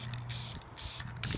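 Brief hissing bursts from an aerosol spray paint can onto a Nissan 240SX rocker cover, two or three short sprays separated by pauses, close by, with a low hum underneath.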